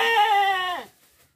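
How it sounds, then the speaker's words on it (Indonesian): A goat bleats once, a loud, close, wavering cry lasting under a second that then fades to quiet. "Wedhus pitu lho,"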